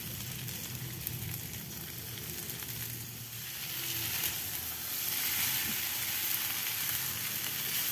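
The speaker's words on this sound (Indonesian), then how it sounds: "Kita aduk-aduk sampai bumbunya larut ya" Fern and oncom stir-fry with palm sugar seasoning being stirred in a pan, a steady soft sizzle with light scraping that swells slightly louder in the second half, no voices.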